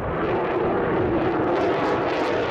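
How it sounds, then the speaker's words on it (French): An F-16 Fighting Falcon fighter jet flies past, a steady, loud broadband engine roar filling the whole moment without letting up. "avec l'avion de chasse le plus utilisé dans le monde, le F-16 Fighting Falcon"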